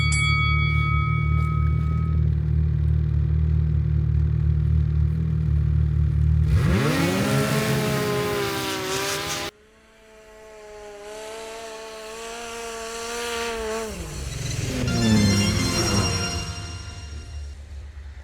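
A 280 hp turbo vehicle and a racing snowmobile rev hard from idle and launch in a drag race, engines screaming with rising, shifting pitch, loud and close, then dropping and building again.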